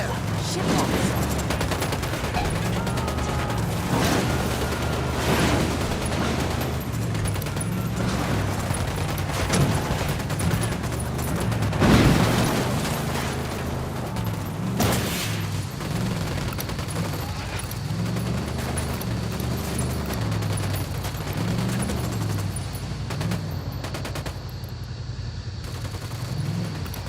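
Sustained gunfire in the video game Ghost Recon Wildlands, with dense bursts of shots and several sharp loud cracks over a constant low rumble, continuing for the whole stretch.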